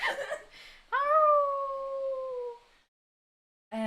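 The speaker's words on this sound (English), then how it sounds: "another howling sound as if it's a very angry guarding canine" A long, loud wolf-like howl rises and then slowly falls as a single sustained cry, with brief voices just before and after it, evoking an angry guarding canine.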